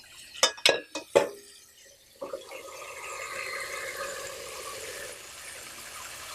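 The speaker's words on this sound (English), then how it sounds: "We're going to run some cold water on it." Cold water from a kitchen tap running over freshly cooked ackee in a pot, preceded by a few sharp clinks of cookware, then a steady splashing flow that continues to the end.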